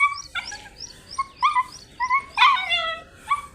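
A dog at a family home gives a string of short, high-pitched yips and whiny barks, fairly close and irregular, with no one talking.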